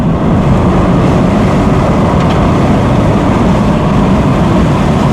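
Interior drone of a car with a 1.2-litre PureTech 130 hp engine accelerating in third gear, a dense, steady low rumble mixed with road noise, loud and continuous, with no talking.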